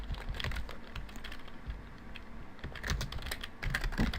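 Rapid typing on a computer keyboard while building a website: a dense, uneven run of close, crisp key clicks and taps continuing throughout, with no talk.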